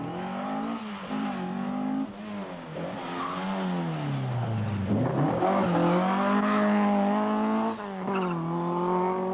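Ford Mark II Escort rally cars race on the Jersey Rally in 1997, engines loud and revving hard up and down through gear changes, with tyres squealing and no talk.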